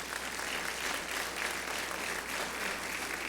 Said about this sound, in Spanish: ¿Le puedes dar otro aplauso al Señor por eso?